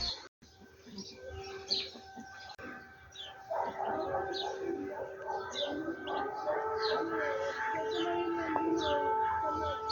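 A steady civil defense air raid siren wails continuously in the background of a garden while birds chirp and tweet throughout, fairly loud and unbroken.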